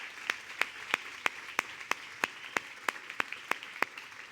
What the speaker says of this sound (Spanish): Quiero que demos un aplauso, por favor, a Ceci.